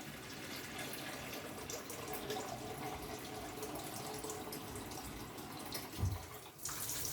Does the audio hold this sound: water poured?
yes